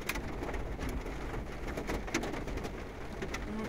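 Big raindrops fall during a West Central Texas storm, pattering in scattered, irregular hits on a surface over a steady outdoor wash of noise, with no voices.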